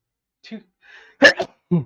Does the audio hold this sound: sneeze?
yes